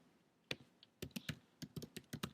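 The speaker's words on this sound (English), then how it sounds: "I can't talk and type at the same time" Typing on a computer keyboard, a run of close, sharp key clicks in uneven bursts with short pauses, quiet and alone without speech.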